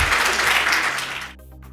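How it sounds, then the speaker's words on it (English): Audience applause breaks out for Justin Timberlake, a dense wash of clapping that fills the first second and a quarter, then cuts off abruptly into quiet room tone. "Big applause. Justin Timberlake."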